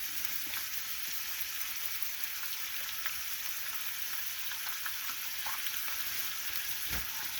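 Food sizzles in a pan inside a cramped truck living space, a steady, close, broadband hiss with faint stirring ticks throughout and no one speaking.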